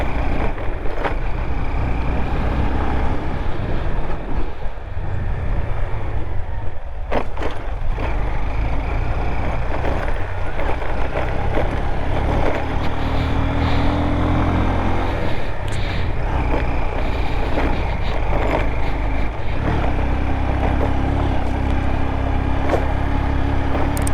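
A BMW S1000RR superbike rides in third gear on rough off-road terrain in Ladakh, its engine a steady loud drone mixed with wind buffeting and occasional thumps, continuous throughout with no talking.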